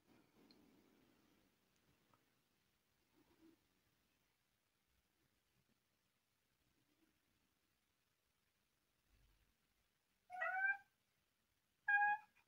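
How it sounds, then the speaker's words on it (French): A house cat gives two short, clear meows near the end after long near-silence broken by faint shuffling and movement sounds. "vous avez droit à mon chat qui miaule, qui rentre, qui sort, qui rentre, qui sort"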